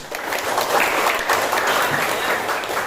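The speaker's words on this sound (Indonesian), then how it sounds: "Ya, tepuk tangan." A classroom of junior high students applauds after a correct answer, a dense, even patter of many hands that stays fairly close and moderate in volume for about three seconds.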